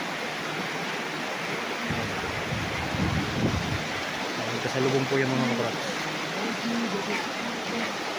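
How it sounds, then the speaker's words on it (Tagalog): A strong river current rushes at a riverside farm lot in Majayjay, Laguna, where two streams meet, giving a steady broadband roar of flowing water under someone speaking. "Malakas ang agos."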